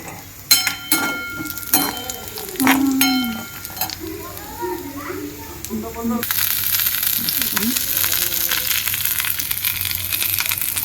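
Coconut and garlic sautéing together in a kadhai for mutton kharda: metal clinks and a few scrapes come first, then a loud, steady, close sizzle fills the rest.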